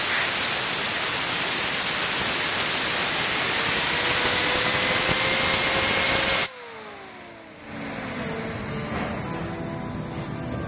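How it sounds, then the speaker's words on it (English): A fidget spinner driven to top speed gives a loud, rushing whir with a faint rising tone, then abruptly drops in level as a falling whine trails off while it slows. "Jay, I got your fidget spinner here. We're going to see what the top speed on it is"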